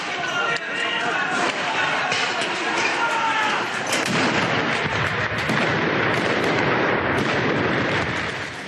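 Fireworks bang repeatedly during a street protest, sharp crackling bursts and booms spread over a dense, loud crowd roar, with people shouting throughout.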